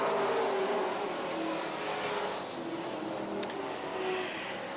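Race cars roaring around the oval at Charlotte County Speedway, a steady, loud engine drone with cars passing close and fading, no talk.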